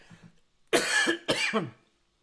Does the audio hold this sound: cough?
yes